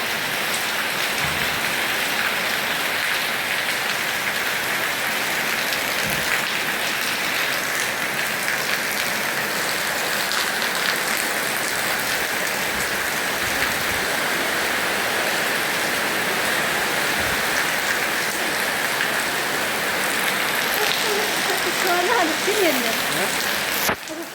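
Heavy rain pours down in a steady, dense hiss that holds unbroken and loud throughout, drumming on surfaces nearby.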